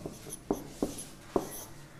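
Three distinct pen strokes tap and scratch on paper while numbers are written out for a math exponent problem, close and sparse against a quiet background.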